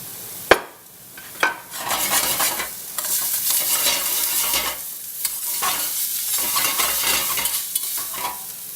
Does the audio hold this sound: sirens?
no